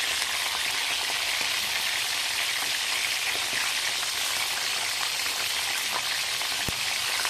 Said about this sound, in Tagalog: Iprito natin muna yung ating mga talong.